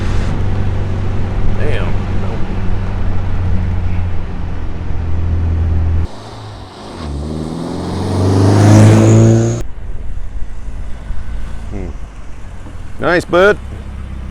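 A restored 1971 MGB sports car drives along a country road, its engine droning steadily with a revving surge partway through, while people talk over it at close range.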